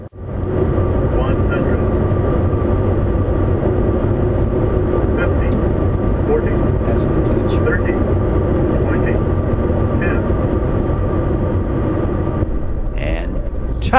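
A Bombardier Challenger 350 business jet lands with a steady, loud broadband engine roar that fills the whole stretch, heard close from inside the aircraft; the noise eases slightly near the end as reverse thrust and braking begin.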